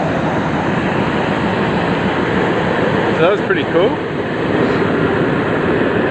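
A train engine runs on a railway in Myanmar as a steady, loud, broad rumble and rush that fills the whole stretch, while someone speaks briefly over it.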